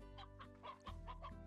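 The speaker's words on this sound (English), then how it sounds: "Chickens, got you. 9 chickens and 1 rooster." Clucking chickens and a rooster in the video game Slime Rancher, a short burst of repeated clucks with a steady low hum beneath.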